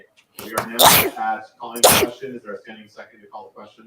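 Two loud sneezes burst out about a second apart at a state political party convention, while a chairperson speaks over them into a microphone.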